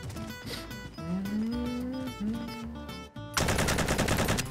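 AK47 fire in Warzone, a loud continuous automatic burst cutting in near the end after a stretch of game music and tones, with scattered shot-like hits earlier.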